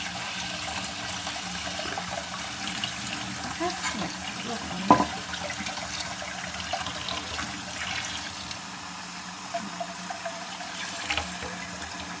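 Squid poured into cold water in a home kitchen while making a spicy Thai squid salad: a steady run of water, with one short splash standing out midway.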